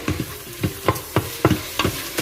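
Ground brisket browning on sauté in an Instant Pot, a spoon scraping the pot in steady rhythmic strokes about every third of a second over a soft sizzle, close and clear with no voices.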